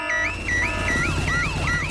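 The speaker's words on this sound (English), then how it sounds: "Daddy Pig has set off the noisy house alarm." A loud cartoon house alarm in Peppa Pig wails with rapidly repeating, warbling electronic whoops that rise and fall in a steady cycle, with no talking.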